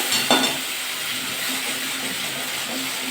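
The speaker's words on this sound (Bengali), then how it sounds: "আমার টমেটোটা বেটে রেখেছিলাম সেটা দিয়ে দেবো ভালো করে নাড়াচাড়া করে নেবো" Ground tomato paste sizzles steadily in a hot pan of oil with chillies, a soft stir and clink near the start, then a continuous close frying hiss with no talk.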